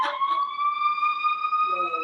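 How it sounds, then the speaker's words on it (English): A Chicago police siren wails in a long, steady, slightly rising tone with a sluggish feel, loud and close, with faint voices murmuring briefly at the start. "why Chicago sirens sound like they just tired of doing"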